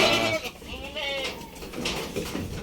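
Nasal, wavering bleats from goats at a goat pen where newborn kids are kept, loud and close, repeating several times over the length of the clip.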